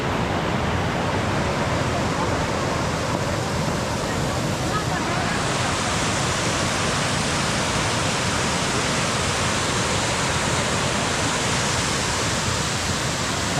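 Fast-flowing water rushing loudly after rain and a release of water, near the Purnagiri Mata shrine on the India-Nepal border, a continuous broadband roar that stays steady and close throughout.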